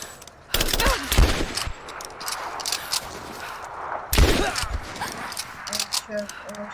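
Gunfire in the action game Rise of the Tomb Raider: bursts of loud, close shots crack in clusters, with shouting voices mixed through the firefight.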